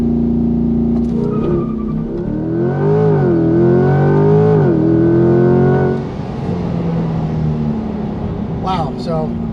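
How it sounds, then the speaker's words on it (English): A 2020 Chevrolet Corvette C8 in race mode with traction control off makes a launch-control start, its engine revving loudly and climbing through several gear changes before easing off, heard from inside with a voice under it. "I think now is a good time to do a little launch control."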